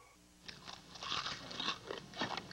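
Close, crisp crunching of crunchy corn ball cereal being chewed, several quick bites in a rapid irregular rhythm, quiet and alone without talk.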